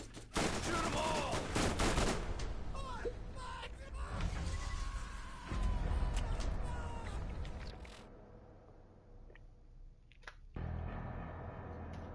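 Gunfire from shooting enemies in the video game Borderlands, bursts of shots mixed with chaotic game effects, loud through the first half and then thinning out, with a late burst near the end.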